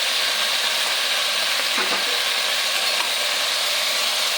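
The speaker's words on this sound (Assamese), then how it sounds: "প্ৰথম এইখিনি মানে অলপ ফ্ৰাই কৰি ল'ম।" Tomato and potato pieces frying in a pan, a steady unbroken sizzle with a soft stir scraping once, nothing else heard over it.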